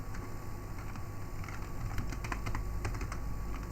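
A command is typed on a computer keyboard, giving quick, close, irregular key clicks over a steady background hum with no talk.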